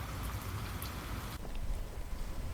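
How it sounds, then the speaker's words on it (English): A rain sound effect, a dense continuous hiss of falling rain and drops on surfaces, steady and fairly soft throughout with no voices. "It rained and rained and rained."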